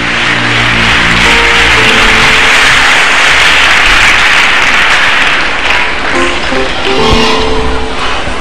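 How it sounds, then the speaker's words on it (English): Church congregation clapping hands during worship, loud continuous applause from a large crowd with dense overlapping claps, accompanied by sustained music tones and some shifting notes toward the end. "Clap your hands for Jesus."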